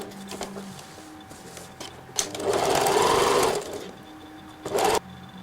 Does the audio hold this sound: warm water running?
no